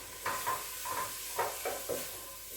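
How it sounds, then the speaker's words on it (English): A spoon stirring leeks in a pan, a few soft scraping strokes in irregular rhythm over a faint steady sizzle, close and quiet. "I need to stir my leeks."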